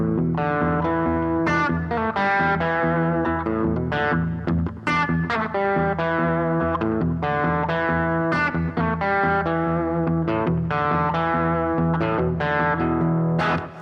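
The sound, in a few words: electric guitar riff in swampy rockabilly style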